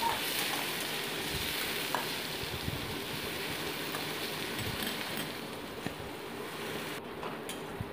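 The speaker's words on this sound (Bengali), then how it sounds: "এবার ওই তেলের ওপরেই দিয়ে দিচ্ছি পেঁয়াজ কুচি, অ্যাড করে দিচ্ছি লঙ্কা কুচি, দিয়ে হালকা একটু সামান্য ভেজে নিচ্ছি।" Chopped onion and green chilli sizzle steadily in hot oil while being lightly fried for a fish and jute-leaf curry, a dense continuous crackle close by with occasional stirring, no talking.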